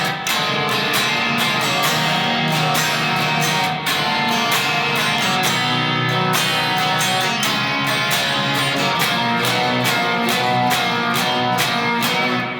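Rhythm guitar plays the post-chorus section of a song in a dense, sustained band-style mix, with chords ringing steadily and loud and no talking throughout.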